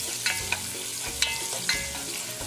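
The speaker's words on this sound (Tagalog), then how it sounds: "Hintayin natin maluto yung kamatis." Tomatoes fry in a pan as the first step of a beef menudo, a steady close sizzle with a few sharp stirring scrapes and clicks from a utensil; no one speaks.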